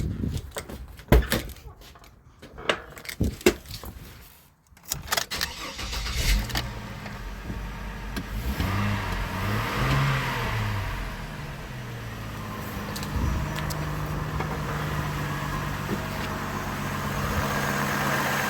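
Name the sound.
Chevrolet Trailblazer engine starting, then idling and revving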